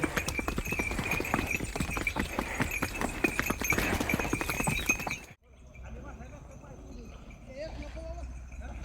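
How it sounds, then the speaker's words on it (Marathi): A steady run of clip-clopping bullock hooves patters on for several seconds, sounding like horse hooves, then cuts abruptly to quieter ambience with faint voices. "एकदम जबरदस्त घोड्याच्या टापाप्रमाणे बैल चालतात"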